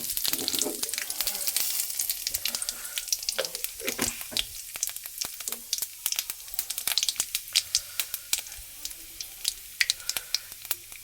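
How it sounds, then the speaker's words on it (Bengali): Cumin seeds and a bay leaf sizzle in hot oil for a Bengali tempering after eggplant has been fried, a close crackling hiss that gives way to sharp spitting pops that grow denser toward the end. "এবার ফোড়নে দিয়ে দেবো জিরে আর তেজপাতা"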